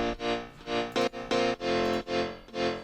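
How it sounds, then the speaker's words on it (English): Piano layered into an electronic music production track, processed with OTT compression and stripped of sub and most bass frequencies, striking a run of bright, dense chords in quick succession, loud and close with no one speaking. "And lastly, I added this piano."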